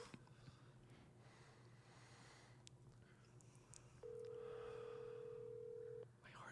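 A telephone on speakerphone being dialed, with faint keypad tones and then a steady two-second tone, in a quiet room with a low hum.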